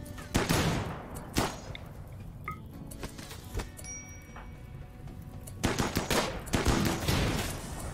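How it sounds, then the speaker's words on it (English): Rapid bursts of gunfire in the colony-survival video game RimWorld, sharp cracks and volleys clustered at the start and again near the end, with sparser shots and small game effects in between; no talking. "Just with traditional gunfire."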